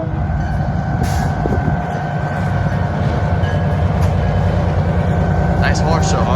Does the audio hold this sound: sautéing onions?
no